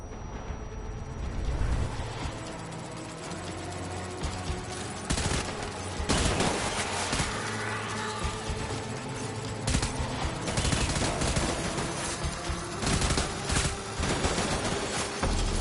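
Automatic gunfire and bursts of shooting rattle continuously through combat in the video game Death Stranding, loud and dense with repeated sharp volleys.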